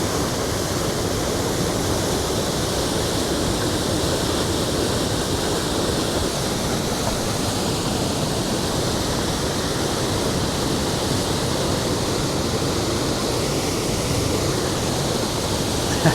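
A waterfall at Pictured Rocks in Michigan's Upper Peninsula roars in a steady, dense broadband rush that stays loud and unchanging throughout, with no voices.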